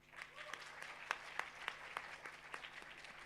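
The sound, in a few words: applause for a debate team in an auditorium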